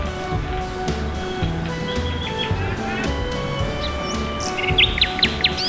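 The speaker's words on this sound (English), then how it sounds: "M is for Myna." A myna calls with bright whistled chirps and short trills over a steady musical backing, the calls growing clearer and more rapid toward the end.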